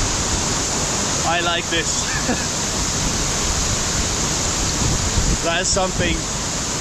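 Waterfalls at Samaipata, Bolivia give a steady, loud broadband roar of falling water that fills the whole clip, with people talking briefly over it.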